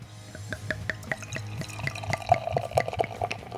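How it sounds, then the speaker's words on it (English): Beer poured hard into a glass, a run of splashing, gurgling liquid with scattered drips that grows busier toward the end, fairly quiet and close with no voices. "I'm gonna give it a little hard pour. A loud pour, John."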